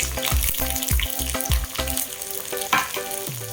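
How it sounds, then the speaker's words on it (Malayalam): Chopped onion and green chilli are sautéed and stirred in a pan for a Kerala-style ladies finger upperi. A steady frying hiss runs under rhythmic low thumps and a few scraping stirs. "ഇത് മൂന്നും നന്നായി വഴറ്റിയ ശേഷം നമ്മൾ വലിയുള്ളി അരിഞ്ഞ് വെച്ചത് ഇട്ട് കൊടുക്കുക."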